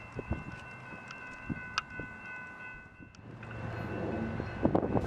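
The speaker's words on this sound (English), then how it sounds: "an Intermodal came rolling through, with a nice Norfolk Southern SD70 Ace in second" An intermodal freight train led partly by a Norfolk Southern SD70ACE locomotive rolls past, a steady rumble and rail clatter under wind noise, building slightly toward the end.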